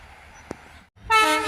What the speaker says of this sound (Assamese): এই ট্ৰেইন ষ্টেচন পালেহিয়ে।